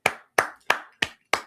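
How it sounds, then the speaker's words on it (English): Five evenly spaced, crisp hand claps ring out alone at a steady rhythm, close and clear, as a round of applause for Tika. "should give Tika a round of applause."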